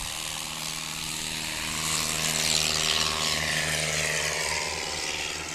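STOL propeller airplane at max power for a takeoff run at Patriot Airpark in Pocola, Oklahoma, its steady buzzing drone swelling a little louder midway and staying strong and close throughout.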